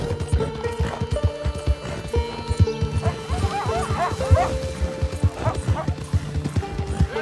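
Dogs barking in Red Dead Redemption 2, repeated yips and barks mixed with the steady clip-clop of a horse's hooves, fairly close, with occasional talk over the top.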